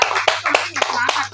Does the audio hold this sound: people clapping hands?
yes